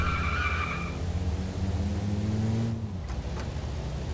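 A car in DayZ slides on its handbrake, a long tyre skid over a droning engine that cuts off after a few seconds, leaving quieter rumble.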